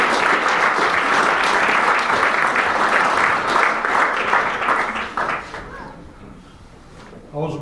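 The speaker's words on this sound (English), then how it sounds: "So please, a big round of applause for Imran Hussain." Applause from the audience at a Labour Party election meeting, dense, loud clapping from a large crowd that holds steady for several seconds, then thins out and fades, with a brief burst at the end.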